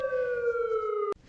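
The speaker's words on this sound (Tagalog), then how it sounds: "ang mga sirena ng kanilang mga truck at kotse ay nakatutulig sa lakas ng hiyaw habang tumatakbo sa lansangan" A police car or fire truck siren gives one steady, slowly falling wail at moderate distance, then cuts off with a sharp click.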